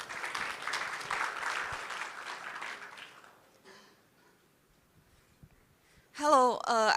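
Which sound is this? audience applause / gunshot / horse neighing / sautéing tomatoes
audience applause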